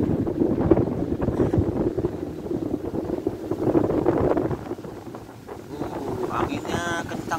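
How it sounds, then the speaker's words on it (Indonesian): Strong wind blows across an open hillside beside rice fields on a mountain climb near Cipasang, Cibugel, roaring and buffeting the microphone in gusts that swell and ease throughout. "Anginnya kencang sekali nih sobat."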